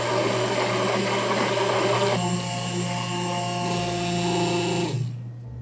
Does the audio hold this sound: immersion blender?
yes